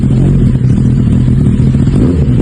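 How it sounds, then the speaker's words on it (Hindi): A motorcycle fitted with an SE1R aftermarket exhaust gives a loud, close, throaty engine roar with clattering texture that holds steady through a short burst. There is no speech. "और अब तीसरा जो एग्जॉस्ट है वो सुनते हैं हम"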